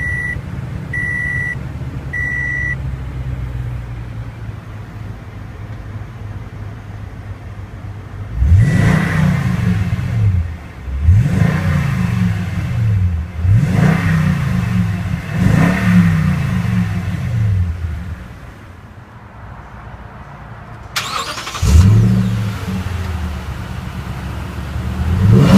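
A 2015 or 2016 Toyota Tundra CrewMax 1794 Edition with a 5.7L V8 cranks and fires up after a few chimes, then revs repeatedly in sharp rising bursts before settling back to idle, loud and close.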